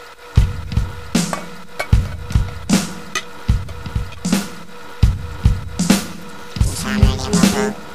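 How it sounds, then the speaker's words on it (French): Saucepans clank and bang in a steady repeated rhythm, loud metallic strikes about twice a second with ringing tails, close by and with no talking. "Et c'est là qu'on entendait les bruits bizarres, un bruit de casserole."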